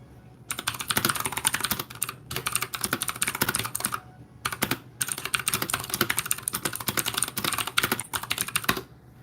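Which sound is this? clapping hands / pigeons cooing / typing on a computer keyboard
typing on a computer keyboard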